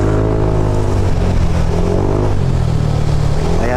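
Car engines idling and moving through slow traffic on a flooded stretch of Angeles San Fernando Road during a typhoon, a loud, steady low rumble close by with shifting engine tones.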